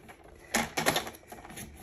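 Paper being cut into two 14 cm pieces for a Stamperia Sweety scrapbook album, heard as a couple of close, crisp cutting bursts with a clicking, trimmer-like quality, separated by short pauses.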